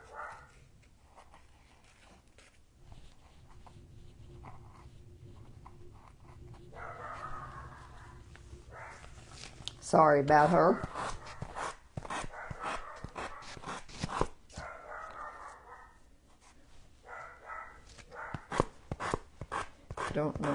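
A dog barks indoors in sharp, repeated bursts alongside whimpers and panting, close and loud at times, with someone talking intermittently between the barks.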